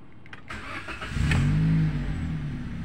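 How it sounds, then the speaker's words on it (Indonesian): A Toyota Calya car engine is cranked by the starter and catches, settling into a steady, close idle with a brief rise in revs; no talking. "Kita coba starter untuk mesinnya,"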